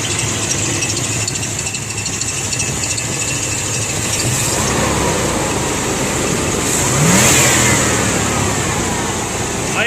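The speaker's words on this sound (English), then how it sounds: "Idle's a little bit high. Still got to adjust some of that down." A Chevy truck engine idles slightly high after a swap from throttle-body injection to a carburetor, giving a steady, close mid-pitched running drone. It swells briefly in a soft rev near the end, with no talking over it.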